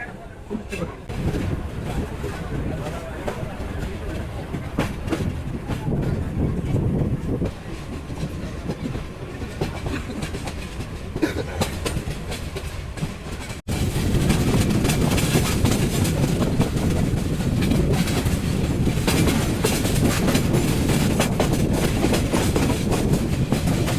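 The Parabat Express rolls out of Bhairab Bazar Junction toward the Bhairab Bazar railway bridge, a steady rumbling clatter of rail wheels heard from on board that grows noticeably louder and fuller partway through.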